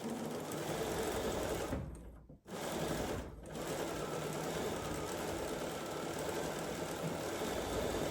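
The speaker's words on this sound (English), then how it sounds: "we're just gonna stitch it down using that 1/4 inch seam" A sewing machine stitches a quarter-inch seam on a quilt block, its steady whirring hum broken by a brief stop a little over two seconds in and a short dip soon after, then running on evenly with no speech.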